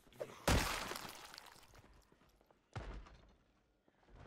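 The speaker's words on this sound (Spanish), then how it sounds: "Hay uno que está por romper una puerta acá." A zombie breaking a door in Project Zomboid, heard as two separate heavy shattering bangs a couple of seconds apart, each trailing off into rattling debris, fairly quiet overall.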